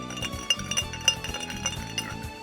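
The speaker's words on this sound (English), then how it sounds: "You might hear some ice clinking and clanking." Ice clinking and clanking against glass, a steady run of bright, light taps and chimes close by, alone without any talking.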